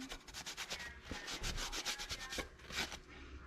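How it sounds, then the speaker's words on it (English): Brisk rubbing strokes scrub over painted wood to distress an Easter picture frame, a close, rhythmic scratchy swishing repeated quickly and steadily with no talk. "Just kind of keep rubbing."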